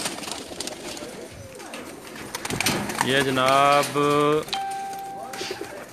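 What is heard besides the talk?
pigeons cooing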